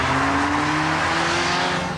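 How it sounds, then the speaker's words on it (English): A Ferrari sports car's engine and exhaust roar loudly and continuously, the engine note rising steadily as it accelerates, with no talking. "The popping of the exhausts booming away like distant thunder"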